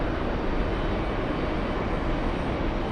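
Delta Boeing 767 jet airliner at JFK airport, its engines a steady broadband roar that holds at an even level throughout with no pauses or speech.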